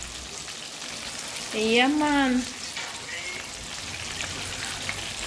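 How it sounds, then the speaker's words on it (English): Continuous crackling sizzle of fish frying in hot oil for Jamaican escovitch fish, with a short spoken phrase rising briefly over the steady hiss. "All right, see them are frying nicely. Now them are frying nice."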